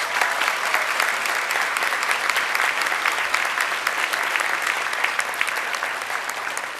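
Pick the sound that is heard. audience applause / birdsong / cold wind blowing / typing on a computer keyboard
audience applause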